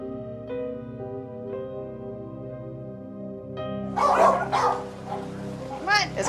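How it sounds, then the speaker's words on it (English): Dogs in a crowded UK animal-hoarding home bark and yip in short bursts after a stretch of music-like steady tones, fairly close and loud toward the end. "They're all sweet dogs."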